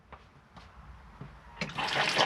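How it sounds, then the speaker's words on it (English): Fresh water flush of a cassette toilet in a Hymer B534 motorhome: a few quiet clicks and taps, then a sudden rush of water that builds and stays loud to the end. "You'll get fresh water flush, put a little bit of water in."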